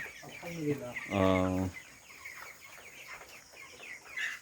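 Broiler chickens on a farm cluck close by in short, uneven calls, with one louder drawn-out squawk and quieter background clucking.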